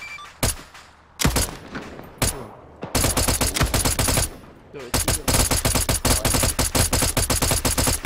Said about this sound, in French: Tire pas trop fort, tu vas t'enrayer si tu tires trop longtemps